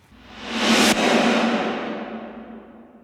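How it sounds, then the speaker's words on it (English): A reversed reverb swells up rapidly, cuts sharply into a loud snare hit, and the hit's reverb tail then decays slowly. "So the reverse and the snare bomb together sound like this."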